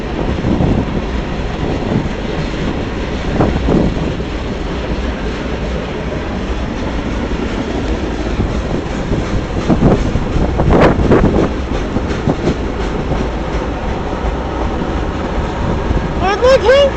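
A Norfolk Southern manifest freight led by three locomotives pulls away from a stop, heard as a steady broad rumble with rail clatter and clicking wheels, wind buffeting the microphone and brief squeals near the end.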